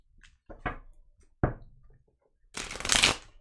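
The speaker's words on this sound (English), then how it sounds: "I just shuffled, but I will shuffle a couple more times." Tarot cards being shuffled close by: a few sharp taps and card snaps, then a longer riffling burst toward the end, with quiet pauses between the sounds.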